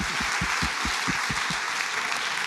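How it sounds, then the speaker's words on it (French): An audience at an art round-table at the Louvre applauds, dense clapping from a room of listeners at a moderate level that stays even throughout. "Un grand applaudissement pour Annette Messager."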